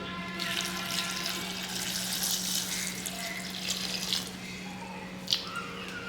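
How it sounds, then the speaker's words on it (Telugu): Water pouring from a tap over cut ivy gourds in a vessel, a continuous close splashing stream with a faint underlying hum, ending in a small clink. "ఇది ములిగే అంతవరకు మనం నీళ్ళు వేయాలి"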